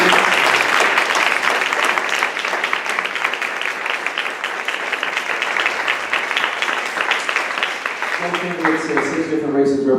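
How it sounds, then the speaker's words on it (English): An audience gives a round of applause for twelve candidates at a forum, a loud, sustained crowd clapping that carries steadily before a voice begins speaking over its tail. "Go ahead and give a round of applause to our 12 candidates."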